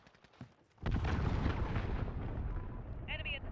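A cruise missile launches in Call of Duty: Modern Warfare. A sudden loud roaring blast gives way to a sustained rumbling rush, with a brief radio-like chirp near the end and faint voices before the launch.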